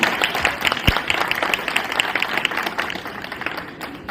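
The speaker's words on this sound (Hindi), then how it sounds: "एक जोरदार ताली बजाइए हमारी बहनों के लिए।" A gathered crowd at a public event honoring acid attack survivors claps in a brisk, fairly rhythmic burst of applause, close and moderately loud, gradually thinning over a few seconds.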